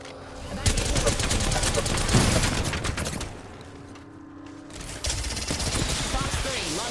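Rapid video game gunfire and weapon bursts from an aerial combat game, with a missile launch whoosh, loud and dense throughout; a voice talks over the action.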